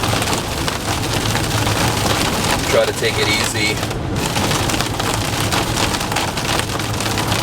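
Steady heavy rain drums on a Coachmen Beyond camper van while it drives through a stormy evening, a loud continuous patter with road noise beneath and a few brief spoken words over it.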